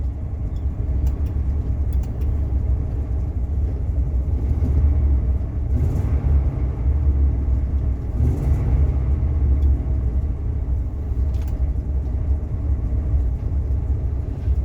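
A Rolls Royce engine runs with a steady, loud low rumble while the car struggles to go into gear with low fluid, the drone holding even for the whole stretch without speech.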